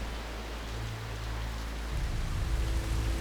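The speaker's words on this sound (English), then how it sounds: "20 centimetres of rain fall in a single 24-hour period." Heavy rain pours down during an intense wet-season storm in tropical forest, a dense, steady wash of noise that swells slightly midway, with no voices.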